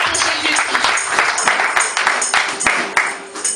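Church congregation clapping and cheering together, a dense, steady wash of applause with sharp claps scattered throughout, loud and close, with voices mixed into the crowd noise.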